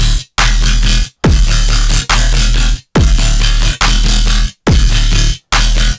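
A heavy dubstep drop remake, built in Serum. Loud, distorted bass stabs hit in choppy bursts, each cut by brief silent gaps that give a stuttering rhythm. No voices are present.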